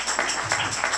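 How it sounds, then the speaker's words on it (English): A church congregation at Sunday worship claps in praise, a dense, soft patter of many hands over about a second. No voices are heard. "Give God a hand clap of praise."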